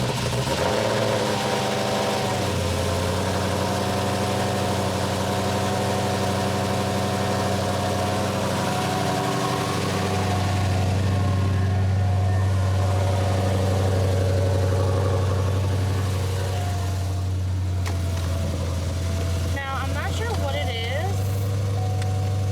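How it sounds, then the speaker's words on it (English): A Cadillac CTS-V with a ported Jokerz supercharger cold-starting and idling: a steady, loud, droning idle with blower whine runs throughout, shifting slightly in tone partway through, while a person talks over it. "So I'm gonna go ahead and do a cold start for you"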